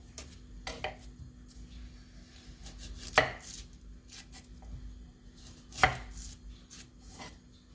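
A knife chops cabbage on a board while chicken kosha is prepared on a cold, windy winter day, giving a few sparse, close knocks, two of them sharp and louder, over a faint steady background hum.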